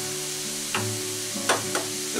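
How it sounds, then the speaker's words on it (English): Corn pieces fry in a pan with a continuous close sizzle, broken by a few sharp pops and clinks from stirring. "we've got our corn pieces cooking away nicely"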